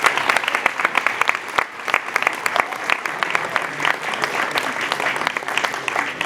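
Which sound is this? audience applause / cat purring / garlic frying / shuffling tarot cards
audience applause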